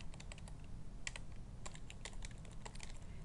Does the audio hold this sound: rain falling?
no